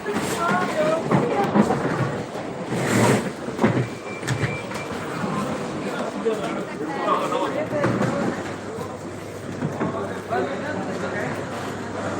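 Thunder rumbling low and prolonged outdoors at an airport, a deep rolling roar swelling and fading under steady background noise while people talk nearby.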